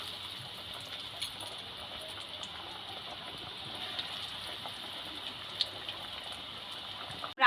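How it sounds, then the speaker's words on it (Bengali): Vegetable chops, or vegetable cutlets, frying in hot oil in a pan, a soft, even sizzle that holds steady throughout, with a few faint ticks and a sharp noise right at the end. "মিডিয়াম করে আমি এক একটা করে ভেজিটেবিল এই তেলের মধ্যে আস্তে আস্তে ছেড়ে দেব।"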